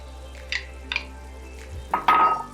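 Chopped onion goes into a hot pan on lowered heat for Persian loobia polo, giving a couple of soft clatters followed by a short, rising sizzle near the end.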